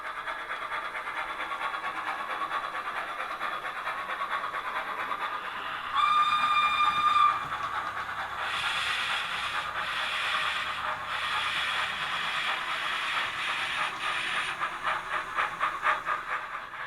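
A Rapido Hunslet 00 gauge model industrial locomotive runs with steady steam sound effects, a constant hiss and chuffing rhythm, plus a brief whistle blast partway through, close and continuous with no talking.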